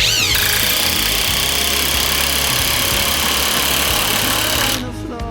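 Stromo cordless impact wrench tightening a fastener, a loud continuous whirring buzz with rapid hammering rattle that runs nearly the whole time, then cuts off near the end.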